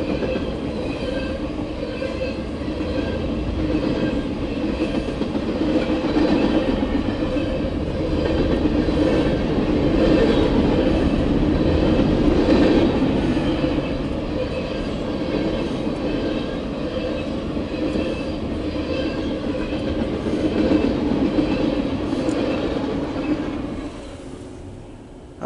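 CSX Q371 mixed freight train rolling past, a loud continuous rumble of wheels and cars with rhythmic clatter and occasional faint squeal, sustained and close throughout before easing off at the end.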